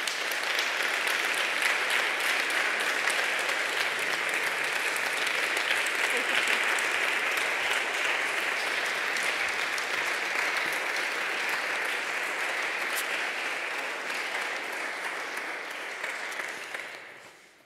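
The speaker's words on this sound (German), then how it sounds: "bitte ich Sie mit einem schönen Applaus Marlene Engelhorn zu begrüßen" An audience applauds to welcome Marlene Engelhorn onstage, a dense, steady wash of clapping from a large crowd that holds for many seconds before tapering off at the end.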